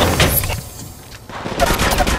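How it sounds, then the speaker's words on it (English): Enemies fire bursts of gunfire in Apex Legends Mobile, loud and close, easing briefly mid-way before the rapid shots pick up again. "Shots fired at me."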